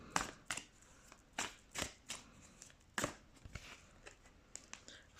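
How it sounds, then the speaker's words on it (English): Tarot cards shuffled by hand off camera, giving a run of crisp riffling bursts and soft slaps at an uneven rhythm, fairly quiet and close, with no talking. "let's bring the tarot cards, and I will shuffle behind the camera"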